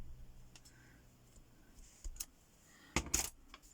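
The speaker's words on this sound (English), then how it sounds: "And I just trim around these in with my scissors." Paper being trimmed with scissors around cut-out pieces, heard as a few soft, sharp snips and clicks close by in an otherwise quiet room, with the clearest cluster of cuts near the end.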